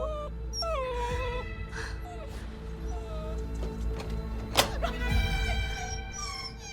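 A puppy whimpers and whines in a run of high, wavering cries and yips, close and moderately loud over a low background hum.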